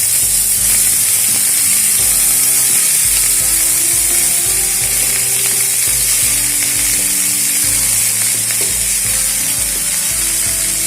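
Chopped greens hitting a pan of already fried eggplant send up a loud, steady sizzle and hiss that runs without a break, with faint clinks of stirring underneath and a musical backing; nobody speaks.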